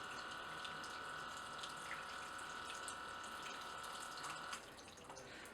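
Water poured onto soil to mimic rainfall runs as a steady, even rush with a faint tonal whine, then tapers slightly near the end; no voices.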